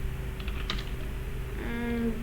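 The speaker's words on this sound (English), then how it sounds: "So type this code out with me." Keys clatter on a computer keyboard while Python code is typed, a brief run of light clicks close by followed by a short steady tone near the end, with no talking.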